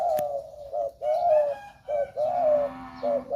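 A caged dove coos close by in a steady repeated rhythm of low rounded phrases separated by short pauses, with a faint click near the start and no talking.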